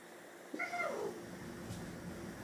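A pet cat, a kitten called Patches, gives one clear drawn-out meow that bends downward, faint and fairly close in a quiet room, with light background hum afterwards.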